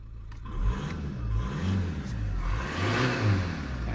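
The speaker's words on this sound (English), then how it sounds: "The engine sounds sweet." A Skoda Octavia diesel with a crankshaft sensor problem runs steadily just after starting, its low, even engine hum holding close and fairly loud with a slight rise in revs partway through.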